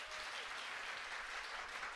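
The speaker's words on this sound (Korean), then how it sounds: "여러분 박수 한번 쳐주시길 바랍니다." Church congregation clapping together during a Korean sermon, a steady dense wash of applause filling the room evenly for about two seconds, with no voices over it.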